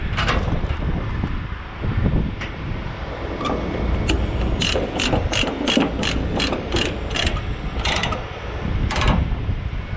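Rapid metallic clicking of a ratchet strap being cranked tight to secure a new forklift on a Landoll trailer, a quick series of sharp clicks in bursts, loud and close over outdoor wind and rumble.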